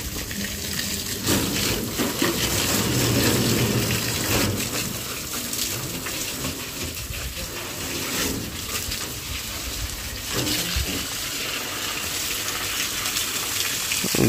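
Water washes over a dust-covered vehicle after overnight rain, a steady broadband gush and splash running continuously and fairly close, with brief surges and no talking.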